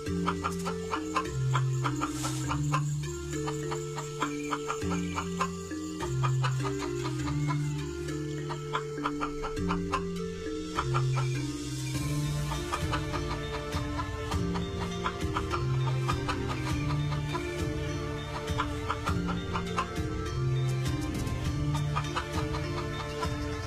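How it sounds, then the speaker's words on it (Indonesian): A hen clucks in short, repeated bursts while steady background music plays throughout. "air kencing Ajisaka terminum oleh seekor ayam betina yang sedang kehausan"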